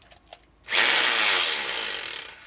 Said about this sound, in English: It's actually a hammer drill.